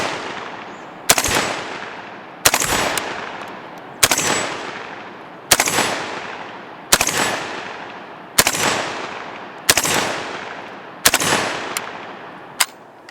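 A JTS12AK gas-operated 12 gauge AK-pattern shotgun fires nine loud, sharp shots at an even pace, each blast followed by a short echoing decay outdoors.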